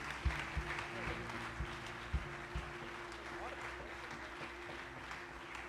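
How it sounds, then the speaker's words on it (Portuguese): Scattered applause in a large room during a church service, clapping under a steady hum, with a few louder claps standing out. "vamos receber o servo de Deus aplaudindo a Jesus poderosamente."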